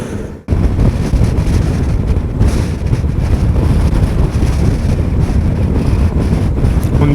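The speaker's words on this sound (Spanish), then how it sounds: "Un día de muchísimo viento" Strong wind buffets the microphone on a very windy day near the beach at the Albufera in Valencia, a loud, continuous low roar that follows a brief drop at the start.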